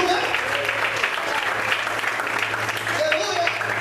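A church congregation claps in sustained applause while voices talk and call out over the clapping throughout.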